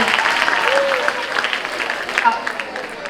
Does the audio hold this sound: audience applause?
yes